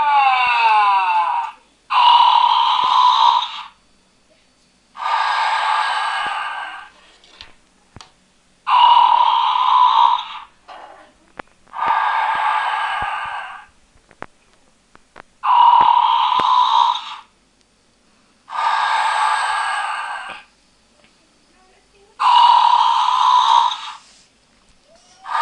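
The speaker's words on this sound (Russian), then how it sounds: "Котик умеет храпеть и дышать." A plush sleeping-cat toy gives a repeated cycle of soft snores and breathy exhales, nine regular bursts roughly every two to three seconds with quiet gaps between, close and fairly loud.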